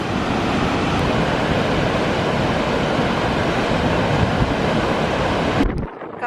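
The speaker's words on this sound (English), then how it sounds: "this is the biggest and best waterfall I've seen in my life" A huge Icelandic waterfall thunders nearby, a loud, constant broadband roar mixed with wind buffeting the microphone, continuing unbroken until it drops off sharply at the end.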